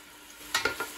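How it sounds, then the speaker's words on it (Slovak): Finely chopped onion fries in hot rapeseed oil, with a few quick scraping stirs and a brief sizzle close up. "Keď bol olej dostatočne horúci, pridal som doň nadrobno nakrájanú cibuľu."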